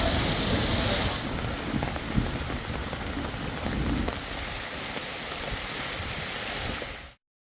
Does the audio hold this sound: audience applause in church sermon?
no